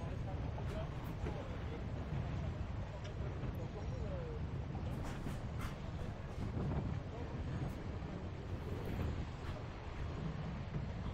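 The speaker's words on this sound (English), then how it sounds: "Oh, nice gust here." Sustained wind roars and buffets across a sailboat during a match race off Macao, a dense rushing noise with rigging and water sounds mixed in, while speech runs faintly beneath it.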